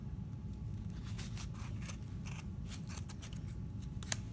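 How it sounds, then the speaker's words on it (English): Scissors snip through thick cardboard wrapped with yarn in repeated quiet cuts, close and crisp against a low steady background hum. "We want our scissors to go down in between the pieces of cardboard, and you're just going to start to cut"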